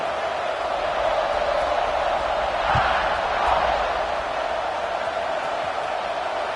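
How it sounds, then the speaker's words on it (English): Crowd at a UTSA vs Alabama college football game roars in a dense, steady wash after a score, sustained and distant with no distinct voices standing out. "this crowd is buzzing after that last score"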